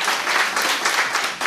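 Studio audience on a French television show breaking into bright, dense applause and clapping that carries steadily throughout without a break.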